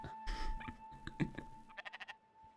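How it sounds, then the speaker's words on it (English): A sheep in a video game bleats with a short, wavering call, and a few quieter rustles and clicks come before it. "This is a sheep."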